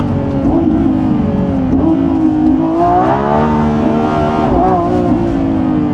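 Lamborghini Revuelto launching from 4,500 rpm in thrust mode, a loud close engine roar with climbing, shifting harmonics as it accelerates hard, steady and unbroken throughout.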